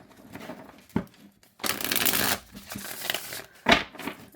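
Several bursts of tarot card shuffling, quick riffling sounds with brief pauses between, close and fairly loud, no talking.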